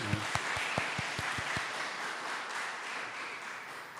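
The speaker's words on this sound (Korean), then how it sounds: "다시 한번 박수해." A church congregation applauds, a few sharp claps at the start swelling into a steady wash of clapping that holds loud throughout.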